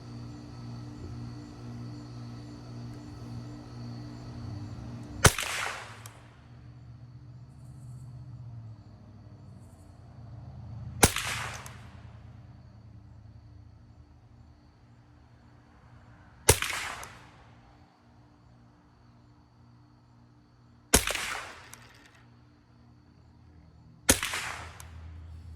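A Savage .22LR rifle fires five single shots at a target, each a sharp, loud crack spaced several seconds apart, with quiet outdoor background between them.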